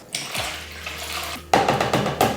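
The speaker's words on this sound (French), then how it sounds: "Et là, je vais le rincer une 3e fois. Donc je mets de l'eau, je nettoie" Tap water runs and splashes into a bowl of rice being rinsed for a third time, a short quieter trickle followed by a louder, close gush with light clinks of grains and container.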